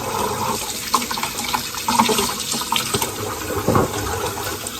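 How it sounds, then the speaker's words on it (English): Running water rinses pulp out of a TUUMIIST juicer's parts, a steady, close gush with splashing surges and shifting flow as the pieces are moved under the tap, with no talking. "Now I'm gonna rinse all of that pulp out."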